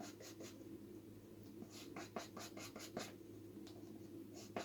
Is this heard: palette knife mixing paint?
yes